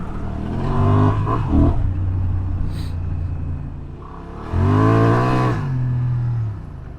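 A Honda Transalp 750 adventure motorcycle revs hard while churning through deep sand, its engine rising and falling in two loud surges, close up with no talking.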